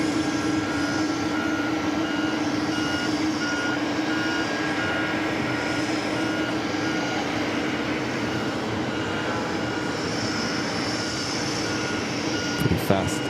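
Aircraft pushback at JFK airport in New York, with a steady loud roar of jet engines and ramp machinery running throughout, a faint intermittent beeping near the end.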